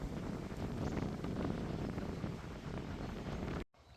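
Cold wind buffets the microphone outdoors on a drive from Adelaide to Mount Gambier, a dense, continuous rumbling roar that cuts off abruptly just before the end.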